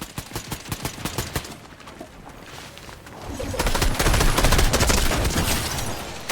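Automatic gunfire from an unfamiliar gun in the video game Fortnite: rapid bursts of shots at first, then a louder, denser stretch of sustained fire.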